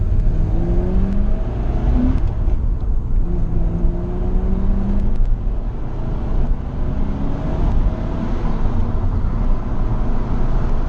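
A Porsche 928 engine revs hard in first gear, a steady loud roar with rising and falling pitch as the throttle is held, close to the microphone with no talk over it.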